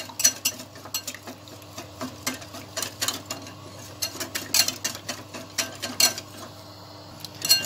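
Flour stirred in a cooking pot, soft repeated scraping and light clinks in an uneven rhythm over a low background hum, fairly quiet and close.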